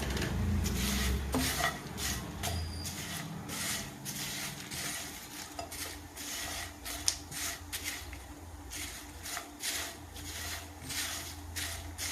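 Spices for pulihora are stirred and fried in a pan, a spoon scraping and clinking against the metal in repeated close strokes over a soft background hiss.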